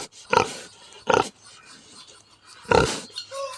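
A hungry 600-pound farm pig gives three loud, close snorting grunts spaced about a second apart, with quieter breathing and rustling in between.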